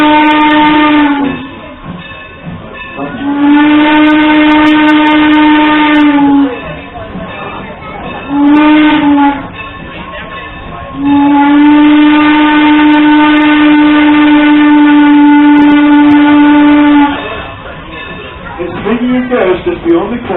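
Strasburg Railroad steam locomotive whistle blowing four loud, long sustained blasts of varying length, separated by short pauses, close and dominant over train rumble.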